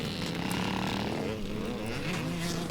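A vintage dirt bike with a Yamaha TT500 engine, Michael frame and CCM tank races at a classic scramble at Carden Farm in Powmill, its engine droning and rising in pitch, fairly close and continuous with no talk.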